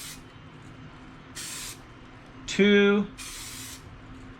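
Aerosol Plasti Dip sprayed over lettering in a few short hissing bursts, separated by pauses, with a brief spoken remark over a faint low hum.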